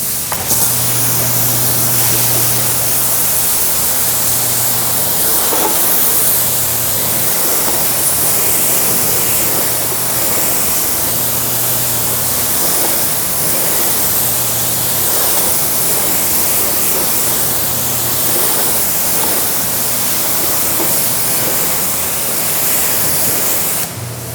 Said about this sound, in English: let's spray down the whole side here with the pressure washer